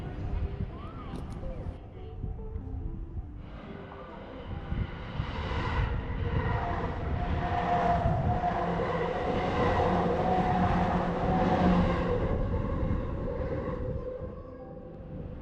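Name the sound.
train arriving at a station in Japan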